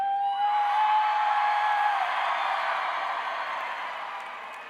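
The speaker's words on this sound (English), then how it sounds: "Just start cheering." A crowd of high school graduates cheers and whoops together at close range, a loud sustained wash of shouting with a rising shrill yell early on, slowly tapering off.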